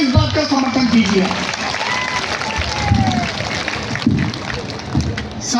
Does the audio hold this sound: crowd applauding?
yes